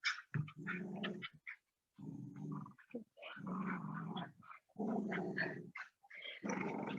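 Two dogs growling while tussling over a toy, close by in a room during a yoga session, with bursts of rumbling, rough growls and snarls coming in uneven, continuous waves with short gaps.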